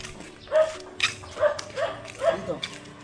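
Several dogs bark and yip in short bursts, fairly close, mixed with a person's voice in the background.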